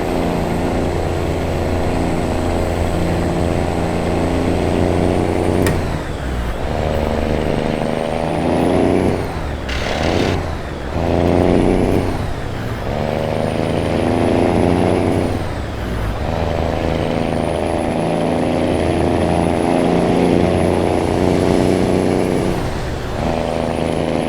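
A loud, steady Volvo VNL670 truck engine in American Truck Simulator drones throughout with rising and falling revs, a hissing air brake burst midway, and a high whine sweeping above.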